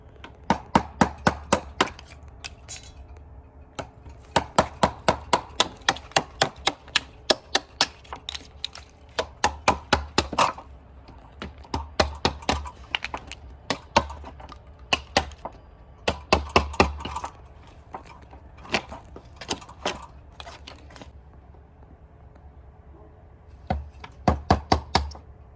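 A chisel knocks out wood wafer cuts to notch lumber for a pergola: bursts of sharp, loud hammer strikes come in quick runs of several blows, separated by short pauses, with no one talking.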